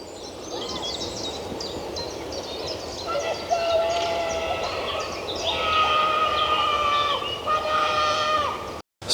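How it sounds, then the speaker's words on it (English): A double-decker tram at Beamish rounds a curve, its wheels squealing on the rails in long, high wavering tones over low rolling noise, fairly close and continuous. "there's a double-decker tram just coming around this corner now"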